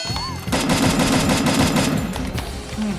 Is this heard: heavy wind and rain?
no